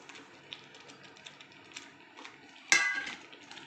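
A spoon stirs semolina in water in a pan for upma, giving faint, scattered scraping ticks and one sharper metallic clink near the end, quiet and close with no talking.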